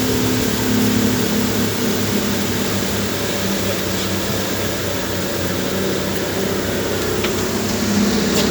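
A fishing boat's engine runs at sea, a loud, steady mechanical drone with a constant low hum and broad hiss, holding an even level throughout with no one talking.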